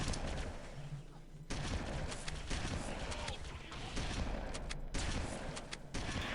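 Dense, loud gunfire and booming shots fill a Halo CE battle, with shotgun blasts and continuous combat noise and a voice talking underneath.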